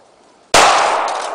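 A gunshot strikes a paint can full of paint: a single sharp, loud crack hits out of near silence and leaves a bright, noisy splatter and ring that fades slowly over the next second.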